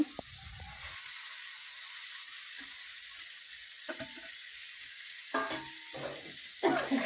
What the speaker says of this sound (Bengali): ভাতটাকে দিয়ে সবজির সাথে ভালোভাবে ভাতটাকে ভালো করে নেড়ে নেব